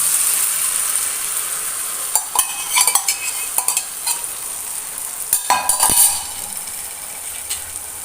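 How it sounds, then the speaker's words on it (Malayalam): Three beaten eggs mixed with salt are poured over wilting spinach in a hot pan, producing a bright, close sizzle with a burst of clinks and scraping midway before settling back to steady frying. "മൂന്ന് മുട്ട ഉപ്പിട്ടിട്ട് നല്ലോണം മിക്സ് ചെയ്ത് വേണം നല്ലോണം അടിച്ച് എടുക്കാം എന്നിട്ട് അത് അതിൻ്റെ മീതിക്ക് ഒഴിച്ചു കൊടുക്കാം"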